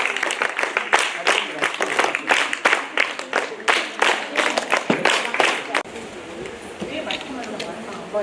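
A crowd claps to welcome children at a school event, with bursts of applause as rapid, dense hand claps close by, fading into softer background noise after a few seconds.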